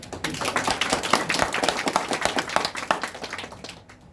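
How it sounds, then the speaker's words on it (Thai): A short burst of clapping from a small group, brisk and uneven, fading out toward the end. "ปรบมือเป็นกำลังใจครับ"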